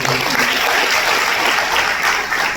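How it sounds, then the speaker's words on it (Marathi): Loud, dense applause from an audience at a public interview event, steady clapping filling the whole moment without a break. "मला वाटतं यासाठी एकदा जोरदार टाळ्या वाजवून द्या"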